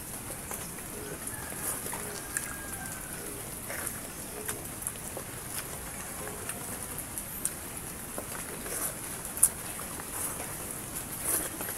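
Rain falls as a soft, steady hiss with faint scattered patter throughout, heard at a distance beside a home kitchen where a vegetable stew is being cooked, with the occasional tap of a drop.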